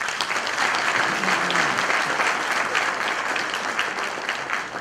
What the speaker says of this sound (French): ces performances méritent des applaudissements.